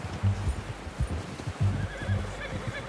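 A horse in the video game Red Dead Redemption 2 neighs and snorts close by, its hooves clip-clopping in uneven steps at a moderate level, with little else around.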